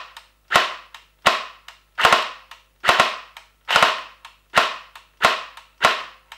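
A 3DG G36K gel blaster fires on semi-auto, with about eight sharp, snappy shots spaced roughly evenly. Several come as quick doubles, as though the blaster lets off a short burst instead of a single round.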